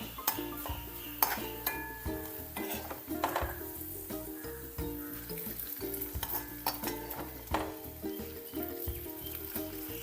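Fried onion and curry leaf tempering for a Kerala cashew nut curry sizzles in a pan, with repeated stirring clinks and clattering pots and utensils throughout, close and moderately loud.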